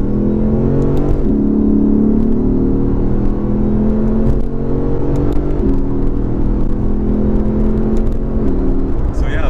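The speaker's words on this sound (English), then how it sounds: "I'll just rev up the gears here a bit." A 2015 Lexus RC F engine rumbles steadily at close range, its revs rising and falling in a few gentle swells over an even low drone, with no talk over it.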